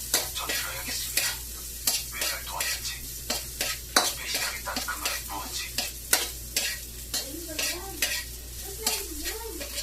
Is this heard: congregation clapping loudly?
no